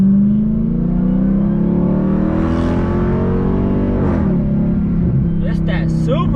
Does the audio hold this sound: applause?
no